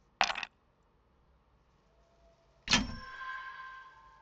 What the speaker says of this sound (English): Let's roll them dice.